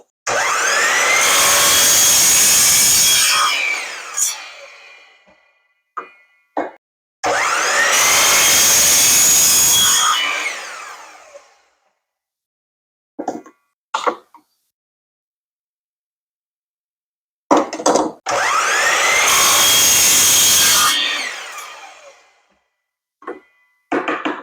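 A piece being cut with a power saw for a pool siphon, three times over, about a 3-inch length of pipe each time. Each loud, close cut whines for roughly four seconds, with short clunks and knocks between cuts.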